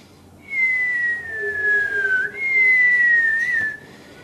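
A voice imitates the whistle of a falling shell from the 1982 Battle of Mount Longdon: two long, high, slowly descending whistled tones, close and loud, with a short break between them.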